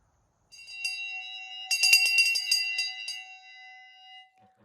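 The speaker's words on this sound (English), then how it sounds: "you will recall that's a school bell" An electric bell rings loudly and continuously for about four seconds with a harsh metallic clatter, then cuts off and fades.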